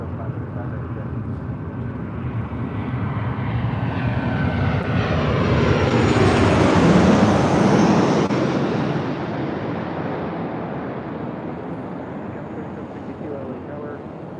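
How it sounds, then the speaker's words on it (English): Delta Airlines Flight 1530 airliner passing at LAX, a loud broad jet engine roar that swells to a peak midway and then recedes, with voices talking over it. "That was Delta Airlines Flight 1530"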